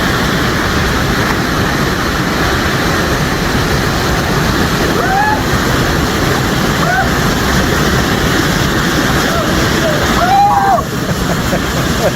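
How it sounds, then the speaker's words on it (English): A waterfall on the Poughkeepsie Gulch trail gives off a loud, constant roar of falling water that fills the whole scene, and a few faint voices and short calls drift in and out beneath it. "right off the right, like maybe a 1-minute walk, is this cool waterfall"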